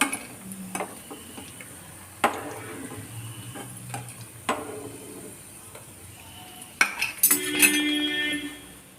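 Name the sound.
baby corn pieces frying crisply in hot oil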